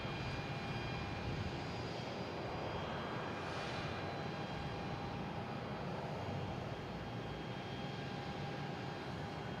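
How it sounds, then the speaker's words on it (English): United Airlines Boeing 737-800 arriving at Boston Logan from Chicago, its engines giving a continuous, even jet rumble with a faint high whine running through it, heard from a distance and unbroken by talk. "Here is United Airlines coming in from Chicago at 737-800."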